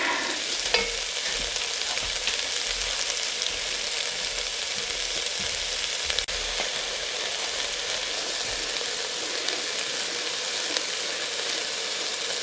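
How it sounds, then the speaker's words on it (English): Brisket browning in a pot while chili is cooked in Alaska, giving a steady, fairly quiet sizzle with occasional faint clicks and scrapes and no talking. "Alright, dropping my brisket in. Let it start browning here."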